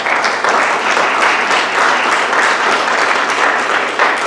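A room at a board of education meeting claps for its teachers, a loud, sustained wash of many hands that stays even from start to finish.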